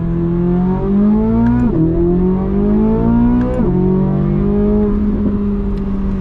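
A 2023 Chevrolet Corvette C8 Z06 with its V8 accelerating hard, loud and close, the pitch rising through each gear with quick drops at the shifts, heard alone without talk.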